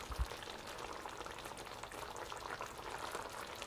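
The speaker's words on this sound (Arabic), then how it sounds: "وهلا ببلش بالتقليب" Chicken pieces stirred through bubbling cooking cream in a pan, with mushrooms, make a steady close simmering hiss with soft wet bubbling and light scraping that continues evenly throughout, no voices.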